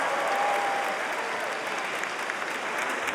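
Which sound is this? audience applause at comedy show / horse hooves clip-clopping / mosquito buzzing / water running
audience applause at comedy show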